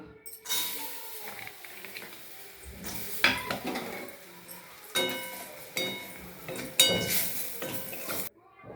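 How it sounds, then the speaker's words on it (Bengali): Lentil dumplings (bori) fry in mustard oil in a pan, with intermittent bursts of sizzling and the clink and scrape of a utensil stirring against the pan, close and moderately loud. "এইবারে আমি বড়িগুলোকে ভেজে নেব"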